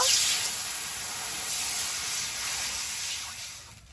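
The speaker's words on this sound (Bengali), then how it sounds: "কড়াইতে জল দিয়ে দেব।" Water poured into a hot wok holding fried raisins bursts into a loud, close hiss of steam that gradually eases off toward the end.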